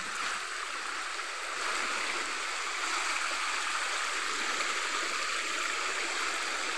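Cold mountain water rushes steadily through a wild, rocky gorge near Rome, a continuous, close, broadband hiss and splash of flowing stream with no voices.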